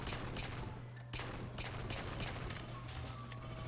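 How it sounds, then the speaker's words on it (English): Rapid pistol fire in the video game Halo 4, a steady run of quick sharp shots over a constant low hum of game ambience, moderately loud, no speech. "I'm gonna be running out of pistol bullets in a second."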